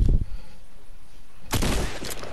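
Shotgun blasts in the video game Fortnite: one booming shot at the start, a quiet gap, then a second loud blast with a ringing tail.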